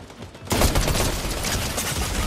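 Shooter video game gunfire that bursts in suddenly after a brief quiet moment, then continues as a loud, dense, continuous volley of rapid shots.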